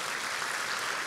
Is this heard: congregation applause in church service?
yes